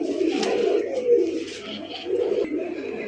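Pigeons coo nearby in soft, repeated low warbling calls over a light background murmur.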